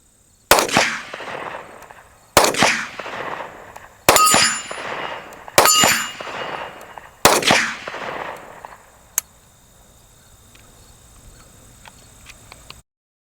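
A CZ-52 pistol fires five sharp, loud shots roughly one to two seconds apart, each with a ringing outdoor echo, followed by a faint metallic click and then quiet.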